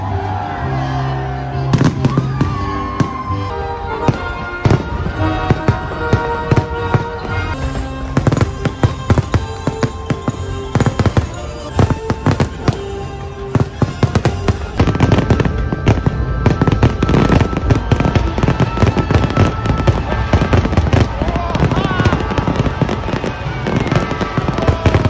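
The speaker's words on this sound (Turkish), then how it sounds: "Sadece havai fişek gösterisini çekeceğim." A festival fireworks display in Luxembourg crackles with dense, rapid bursts and pops, loud and continuous over a low crowd murmur, the explosions layering into a steady roar.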